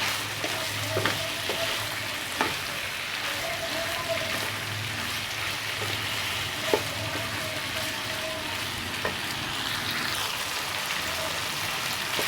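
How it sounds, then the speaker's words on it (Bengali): Mixed vegetables with green chillies stir-frying in a pan for a Bangladeshi-style Chinese prawn vegetable dish, a constant crackling sizzle with occasional spatula knocks and scrapes. "কষানো হয়ে গেছে ভাজা ভাজা হয়ে গেছে"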